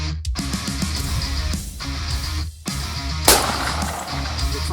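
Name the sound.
gunshot while hunting deer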